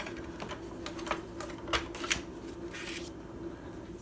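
Paper pages for a mini album are trimmed with a cutter, giving a series of soft scraping slides and light clicks, close and fairly quiet, with brief louder swipes near the middle and end.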